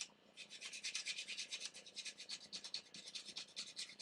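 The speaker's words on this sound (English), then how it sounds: "Hit it with a coarse rat tail file" Coarse rat tail file rasping over a part, a quick run of rhythmic, scratchy strokes repeating steadily, close up and fairly quiet, with no voices.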